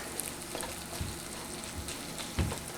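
Potatoes and onions frying in a wok over medium heat, stirred with a wooden spoon, giving a faint low sizzle with a few soft scrapes and knocks of the utensil.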